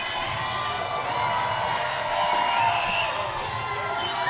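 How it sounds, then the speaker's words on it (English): A hockey crowd cheers after a goal in a Danbury versus Watertown game, a broad, sustained roar of voices filling the arena at steady loudness, with a commentator's voice mixed in. "So that wakes up the crowd."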